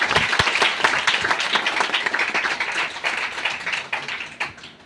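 Audience at a Patna branch meeting bursting into loud, dense clapping that runs steadily for several seconds close by, with a few sharper individual claps standing out.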